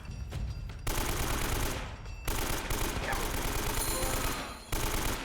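Sustained AK rifle bursts in the Uncharted video game, a dense rattling fusillade that runs almost without pause through the clip, loud and close, broken only by a couple of very brief gaps.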